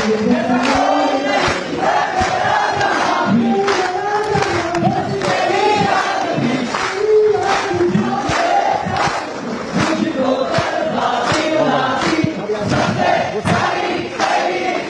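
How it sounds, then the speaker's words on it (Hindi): A crowd aboard the aircraft carrier INS Vikrant greets Prime Minister Narendra Modi with loud, sustained clapping mixed with shouts and cheering, a dense, energetic roar of many people that keeps going throughout. "आईएनएस विक्रांत पर देखिए कैसी जोरदार तालियां बजी"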